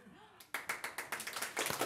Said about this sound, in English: Round of applause, yes.